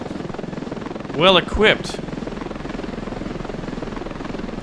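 Steady rapid rotor thump of a helicopter in Ravenfield, continuous and fairly close. Someone speaks briefly over it.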